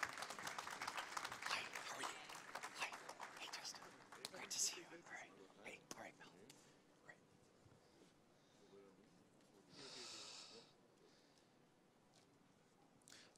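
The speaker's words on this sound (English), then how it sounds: "Please give them a round of applause." An audience at a debate session on Georgia claps to welcome panelists to the stage. Dense applause rises at the start, then thins and fades into murmuring, with a brief burst of clapping later and talk around it.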